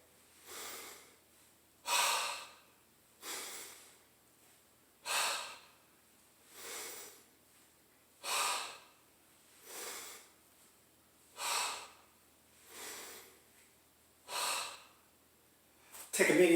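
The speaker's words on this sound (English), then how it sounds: "The breathing is inhale, exhale." Deep, rhythmic breathing during Chinese wand floor exercises, about ten slow breaths spaced evenly, each inhale and exhale rising and falling alone in a quiet room.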